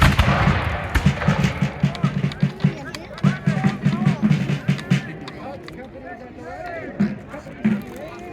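Black powder musket volleys at a battle reenactment at Guilford County Courthouse, a sharp blast followed by a run of rapid crackling shots at middle distance, with voices shouting and talking beneath.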